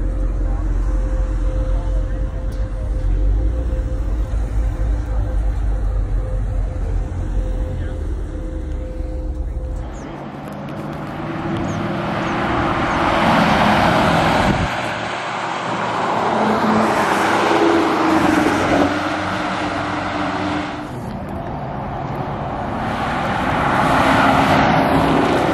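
A Camaro 1LE Turbo on a race track, its engine droning steadily and rising and falling with acceleration and shifts, heard from inside the car with road noise throughout.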